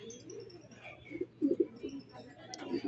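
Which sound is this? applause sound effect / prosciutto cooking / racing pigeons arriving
racing pigeons arriving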